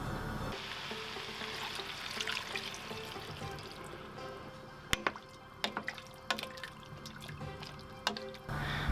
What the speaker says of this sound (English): So it's time to add our stock now.